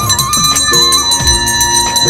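A temple bell rings repeatedly during a Krishna Janmashtami puja, its bright sustained metallic tones layered over one another with no pause, loud and close amid low background rumble.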